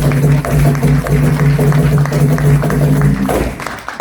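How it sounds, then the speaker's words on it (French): An audience at a civic engagement evening applauds the event's organisers. Dense clapping and crowd noise rise over a sustained tonal drone, then fade slightly near the end. "que tout le monde applaudisse les personnes à l'initiative"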